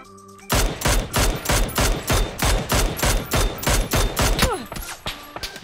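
Rapid bursts of automatic gunfire in PUBG rattle out loud and near, a steady string of about a dozen sharp shots that thins out toward the end.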